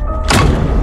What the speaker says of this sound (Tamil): கதவு ஏன் போட்டு உடைக்கிற?